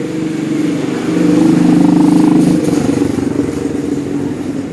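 A Vega motorcycle with a loud aftermarket exhaust revs loudly with a rough, throaty rumble, swelling in the middle then settling back to a steady idle, close by.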